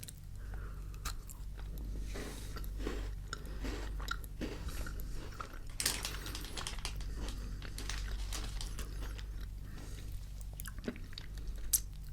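Close, crisp crunching and chewing of a crunchy English chocolate bar, with repeated bites and crinkly wrapper rustles over a low steady hum, no talking.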